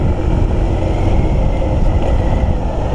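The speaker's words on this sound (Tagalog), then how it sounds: "Ang lakas ng motor ko, oh." A Suzuki GD110 motorcycle runs at speed on the road, its engine a continuous low rumble mixed with strong wind buffeting, loud and unbroken throughout.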